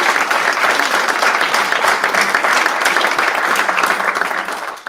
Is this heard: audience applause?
yes